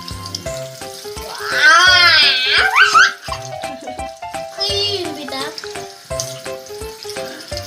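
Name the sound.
child washing hands and face with soap and water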